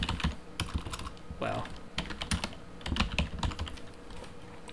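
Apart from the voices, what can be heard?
typing on a computer keyboard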